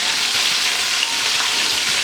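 Fried chicken pieces sizzling in hot oil in a pan as they are lifted out, a close, steady, dense crackling hiss with no pauses.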